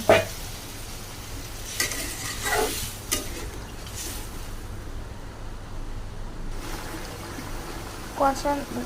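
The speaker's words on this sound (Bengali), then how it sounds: "করার পরে বেশ খানিকটা সময় নাড়াচাড়া করে ওতে হালকা জল দিয়ে কষাবো।" Potatoes and pointed gourd being stirred and fried in a pan, a soft continuous sizzle with intermittent scraping strokes of a spatula, faint and close, with someone speaking at times.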